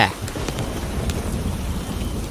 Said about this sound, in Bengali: মনে হচ্ছে আজ আর বৃষ্টি ছাড়বে না, আকাশের অবস্থাও তেমন একটা ভালো না, দেখছো না কি জোরে জোরে বজ্রপাত করছে।